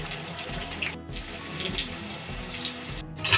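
Onions and chili sizzle in a hot pan, a steady close-up hiss that carries on throughout with two very brief dropouts and no talking.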